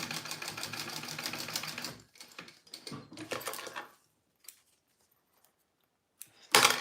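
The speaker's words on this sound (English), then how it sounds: "I'm gonna do, stitch it at about 1/4 of an inch here." A sewing machine stitches a vinyl zipper tab for a purse in a steady, close whirring run. It then stops and gives a few short stitching bursts and light clicks, with a final loud burst near the end.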